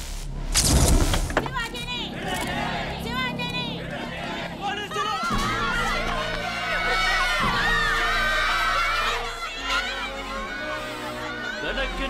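A large crowd gathered with media present, a dense murmur of chatter and raised voices with a loud burst early on, continuing under nearby talk.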